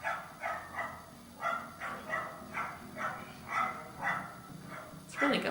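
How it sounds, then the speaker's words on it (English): A dog barks repeatedly outdoors, a steady series of sharp, moderately distant woofs at roughly half-second intervals, heard faintly in the background. "There's a dog outside having a fit."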